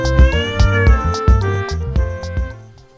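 A cartoon cat meows several times in a high, melodic voice over a bright musical background, the calls coming in quick succession before fading near the end.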